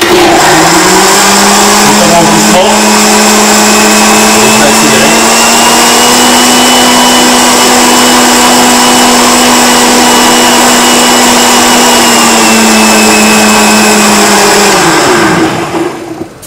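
A blender purees pumpkin velouté soup in a steady, loud whir that holds for about fifteen seconds, then winds down and stops near the end.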